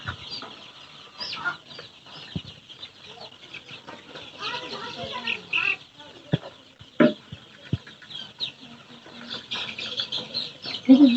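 Chickens cluck and squawk close by in short bursts, a rooster among them, with people talking nearby and wings flapping now and then.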